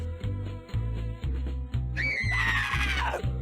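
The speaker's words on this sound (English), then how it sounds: "That's quite a scream." A shrill, high rising-then-falling scream from SpongeBob Plankton's Fun House, bursting in over a looping thumping game beat and lasting about a second before trailing off.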